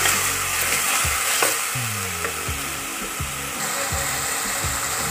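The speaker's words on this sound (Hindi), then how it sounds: "अब इनको अच्छी तरह हम मिक्स कर लेते हैं।" A spoon stirs and scrapes through chicken spaghetti sauce with ketchup in a hot pan, making repeated sweeping strokes over a continuous sizzle of frying, close up and without talking.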